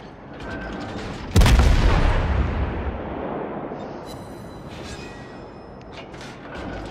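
Naval guns firing armor-piercing rounds in World of Warships on the cruiser Des Moines: one loud, booming salvo that decays slowly over a rumbling background, followed by faint distant reports and mechanical clicks.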